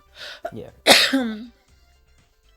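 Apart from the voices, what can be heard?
cough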